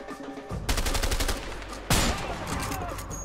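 Bursts of gunfire from the video game A Way Out, rapid repeated shots starting about half a second in, with a louder volley near two seconds, loud and continuous throughout.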